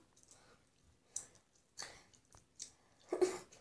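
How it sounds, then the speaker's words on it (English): Soft, quiet chewing of gum close to the mouth, with wet clicks and smacks at an irregular pace and a breathy sigh near the end, with no talk. "I'm chewing gum."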